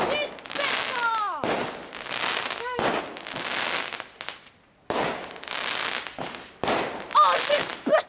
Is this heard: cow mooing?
no